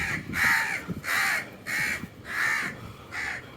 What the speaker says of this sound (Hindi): कौवों ने काएं काएं करना स्टार्ट कर दी मेरे ऊपर ही आते हुए।